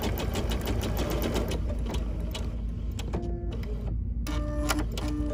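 A computerized embroidery machine stitches continuously at close range, a fast steady needle rattle with mechanical whirring, then trims the thread and briefly pauses before moving on to a new section, with tonal motor whines as it repositions.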